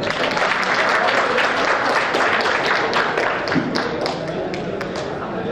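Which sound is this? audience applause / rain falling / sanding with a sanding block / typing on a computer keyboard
audience applause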